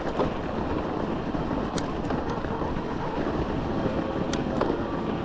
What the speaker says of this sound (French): Parce qu'il y a un petit vent, il n'est pas chaud.